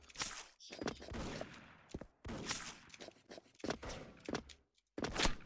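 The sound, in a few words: sniper rifle gunshot from the video game Special Force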